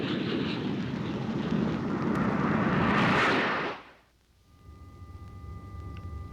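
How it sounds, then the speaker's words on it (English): A military jet roars past overhead, a loud broad rush that swells and then cuts away sharply, leaving a faint lower rumble behind. "Air National Guard jets are aloft in support of the Air Force mission"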